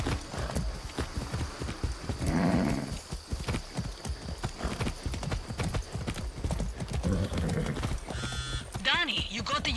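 Horse hooves clip-clopping at a steady walking rhythm in the video game Far Cry 6, close and continuous, with bits of in-game sound and voices mixed in.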